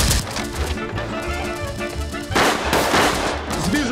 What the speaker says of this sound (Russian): Ну хватит палить, береги патроны!